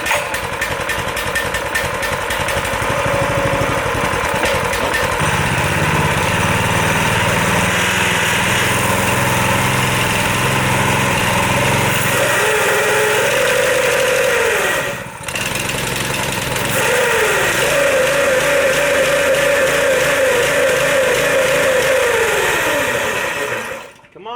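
A rough vehicle engine held on throttle, running loud and near with a steady mechanical clatter, briefly dipping around the middle before revving back up and cutting out at the end, with no talk.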